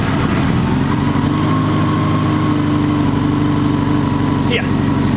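Honda GL1200 Goldwing motorcycle engine idling after an exhaust patch, a steady loud low rumble with even pulsing close by and a brief high squeak near the end.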